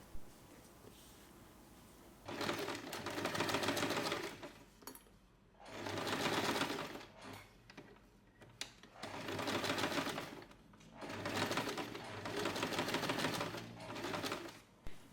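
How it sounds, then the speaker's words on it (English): A sewing machine stitching a flap onto the main fabric of a small snap-button keyring pouch, running in four or five bursts of rapid whirring needle chatter with short pauses between, close and clear. "Now sew the flap onto the main fabric,"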